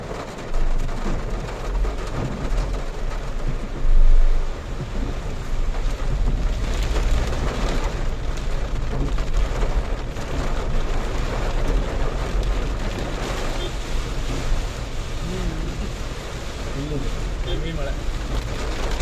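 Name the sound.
heavy rain and thunder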